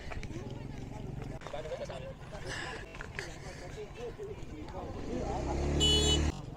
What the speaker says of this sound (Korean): 오토바이가 많네